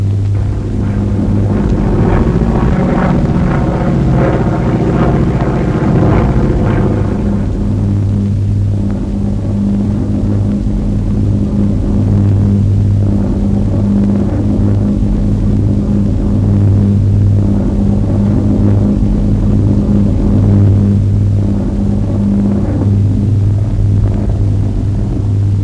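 A constant low, heavy engine drone fills the cabin of an RAF transport plane in flight, a loud unbroken rumble with steady tones throughout and no voices.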